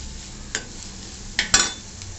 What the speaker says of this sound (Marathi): तेलामध्ये जिरं, मोहरी, अद्रक लसूण पेस्ट आणि चिरलेला कांदा